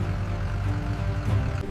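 Steady, close helicopter rotor and engine drone in an animated Navy SEAL raid scene, continuous with a low thumping hum and no talking.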